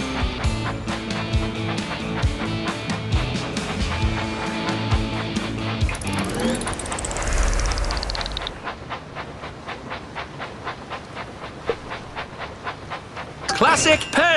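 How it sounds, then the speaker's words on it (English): A toy-style train engine runs in the Thomas & Friends Minis video game, with rhythmic chuffing and clatter, a long hissing whistle-like sweep partway through, and game music and voices around it. "Clear the tracks! Engine coming!"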